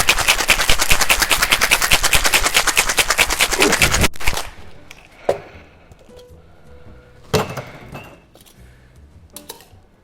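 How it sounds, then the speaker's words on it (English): A cocktail shaker packed with ice and a Gin Basil Smash is shaken hard for about four seconds, a dense, loud, rapid rattle of ice. It stops abruptly, followed by a few scattered knocks and clinks. "I'm going to add some ice to that and give it a really good shake."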